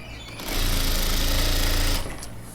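A sewing machine stitches knit fabric scraps, a close, loud, fast even whirring run of about a second and a half that starts and stops abruptly against quiet room sound.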